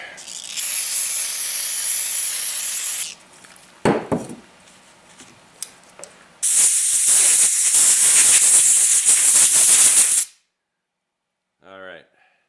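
Two long bursts of loud, close hissing compressed air spraying out a Kawasaki ATC clutch part, separated by a pause with a few clicks and knocks, then silence with a brief voice.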